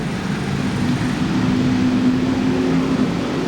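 Street stock race cars roar through a corner at Seekonk Speedway during a heat race, engine noise loud and steady with a sustained droning tone throughout, no voices heard.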